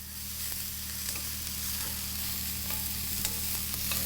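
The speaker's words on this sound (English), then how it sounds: "So better to just stir fry." Vegetables stir-fry in a pan with a soft, steady sizzle and faint scraping stirs, quiet and close with no talking.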